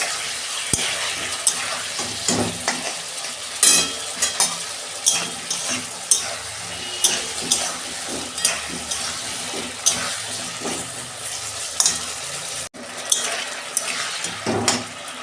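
Ginger paste fries in a pan for a fish curry with ridge gourd and potato, with steady sizzling and repeated scraping stirs, loud and close, without any talk.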